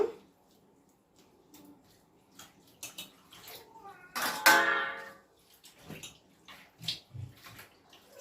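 Gongura leaves washed in water by hand: soft sloshing and splashing with a brief, louder gush of water midway and a few small knocks, close and fairly quiet.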